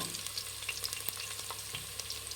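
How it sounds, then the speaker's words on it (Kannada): Onion frying in a pan for Karnataka-style rice bath, a steady close sizzle with faint crackles and occasional stirring scrapes throughout, no voices. "ಫ್ರೈ ಮಾಡಿ ಈರುಳ್ಳಿನ"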